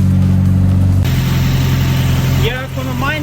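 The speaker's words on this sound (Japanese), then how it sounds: "いやこの前のエンジンより全然静かスムーズ静か" A freshly fitted SR20 engine in a Nissan Silvia runs loud and steady just after its first start, its smooth idle holding throughout, with excited voices chattering over it near the end.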